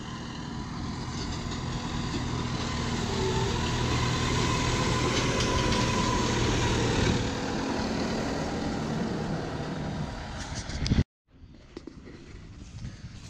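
A John Deere 5090M tractor drives through a field of white hull-less pumpkins, its engine a steady, loud, low rumble that cuts off abruptly near the end, leaving quieter ambient sound.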